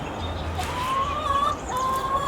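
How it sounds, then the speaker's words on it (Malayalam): Chickens give soft, continuous clucks and low murmurs near a house in New York, moderately close, with no voices over them. "കോഴി മിണ്ടാണ്ട് സൗണ്ട് കേൾപ്പിക്കട്ടെ."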